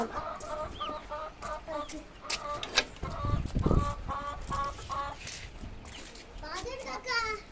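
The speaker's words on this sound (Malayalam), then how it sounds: "ഇവിടെ കുറച്ച് കോഴിക്കളുണ്ട്" Chickens cluck repeatedly in a farmyard, including a mother hen with her chicks, while children talk and play nearby throughout.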